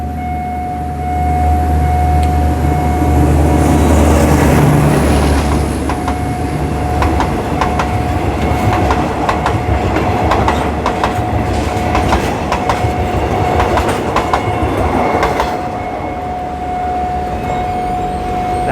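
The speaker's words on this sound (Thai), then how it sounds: "จากขบวน 379 นะครับ ก็จะเป็นรถฉาเชิงเซาอีกหนึ่งขบวนนะ" A train rumbles past with rhythmic clickety-clack of wheels on rails, a steady warning bell tone ringing throughout at the Phet Uthai Road level crossing in Thailand.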